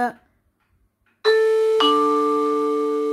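A two-tone electronic doorbell chime rings clearly, a high note then a lower one that lingers and fades slowly, after a brief sound and silence.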